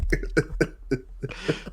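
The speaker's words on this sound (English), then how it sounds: "Don't cough" A man coughs in a few short bursts, close to the microphone, during a late-night Tottenham football chat.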